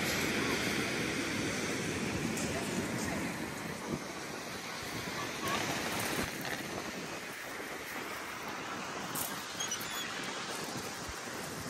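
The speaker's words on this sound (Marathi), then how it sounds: "लाटांचा आवाजच एवढा आहे" Sea waves crash and roar continuously, a broad steady rush mixed with wind buffeting the microphone.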